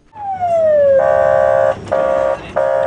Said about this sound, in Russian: Включенные спецсигнал и проблесковые маячки дают небольшие преимущества на дороге